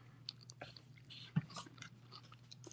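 Chewing on a crunchy premium dessert salad, with close, irregular crisp bites and mastication bursts over a steady low hum, including one sharper crunch near the middle.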